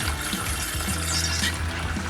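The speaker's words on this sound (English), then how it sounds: "I've added this plunger to help me force the water through and improve my flow rate." Water is forced through a homemade water filter with a plunger, giving a continuous close rushing, gurgling flow with low pulsing tones throughout; no talking.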